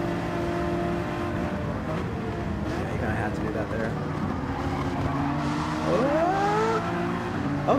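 A GR4 race car spinning out on a wet track in Gran Turismo 7, engine droning steadily with rising tire skid squeals near the end, under continuous commentary talk.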